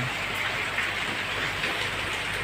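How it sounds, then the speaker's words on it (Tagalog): Steady, heavy rain pours down continuously with a dense hiss, no voices, loud and close throughout. "So, medyo malakas pa ngayon yung ulan."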